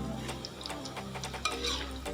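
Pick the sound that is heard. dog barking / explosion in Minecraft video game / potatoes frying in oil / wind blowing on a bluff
potatoes frying in oil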